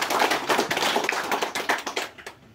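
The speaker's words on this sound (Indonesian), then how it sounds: "Tepuk tangan untuk Desa Desa." Audience at a harvest festival and seed distribution event clapping their hands in a dense, close burst of applause that thins out and fades near the end, with no talking.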